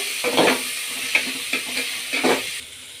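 Mustard seeds, curry leaves and onion going into hot oil in a pot, with short bursts of spluttering sizzle and stirring scrapes that come in separate pulses, close and moderately loud.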